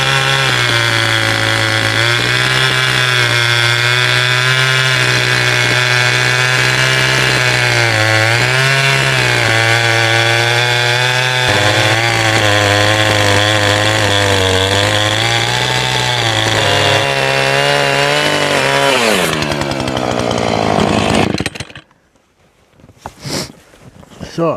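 A chainsaw cuts through a log of wood destined for chips, its engine droning loud and close with pitch dipping and rising under load for about twenty seconds before it drops to idle and cuts off.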